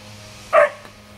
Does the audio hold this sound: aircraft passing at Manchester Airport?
no